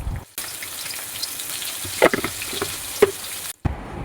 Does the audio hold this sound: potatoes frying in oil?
yes